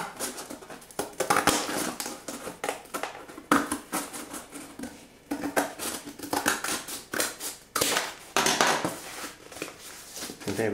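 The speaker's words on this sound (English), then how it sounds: "And we can do that with our scissors." Repeated crisp snipping of scissors cutting through paper, close up, in quick irregular bursts with brief pauses between runs of cuts.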